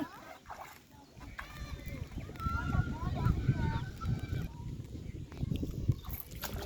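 A group of ducks gives repeated quacking calls at moderate distance, mixed with low outdoor rumble, while people talk nearby.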